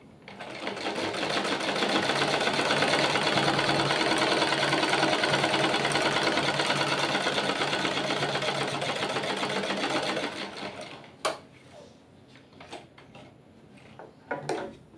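A sewing machine stitches a blouse in one long, loud, steady run of rapid mechanical chatter, then stops, leaving a few scattered clicks and handling knocks.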